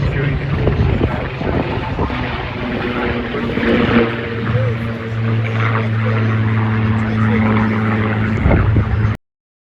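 A military jet makes a low, slow pass at an English Riviera air show, a loud sustained roar with shifting engine tones drawing near overhead, while a commentator talks over it and wind buffets the microphone.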